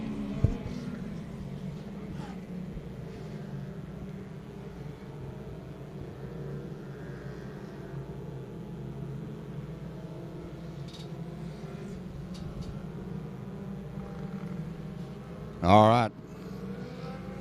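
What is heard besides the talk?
Pro Dwarf race cars starting 30-lap feature race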